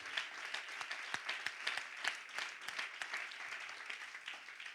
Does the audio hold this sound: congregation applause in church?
yes